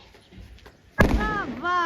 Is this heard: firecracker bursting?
yes